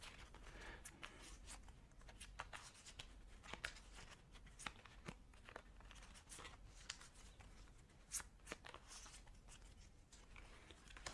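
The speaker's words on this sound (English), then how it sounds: "now we have to shuffle our hand already." Cards from a G.I. Joe deck-building game are shuffled by hand at a tabletop, producing soft papery riffles, flicks and taps in a steady, fairly quiet stream with no talking.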